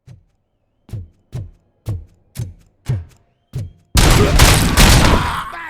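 Gunfire in RoboCop: Rogue City, six sharp single shots spaced about half a second apart, then a dense, loud burst of rapid firing that fills the rest of the moment.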